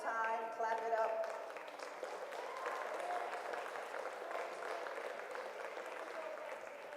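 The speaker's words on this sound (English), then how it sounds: "Clap it up." An audience bursts into applause at the close of a talk, the clapping steady and moderately loud, with voices calling out over it at the start before it settles into an even, fading wash.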